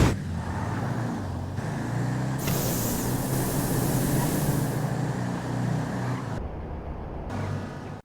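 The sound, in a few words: nitrous Impala drag race launch in video game GTA V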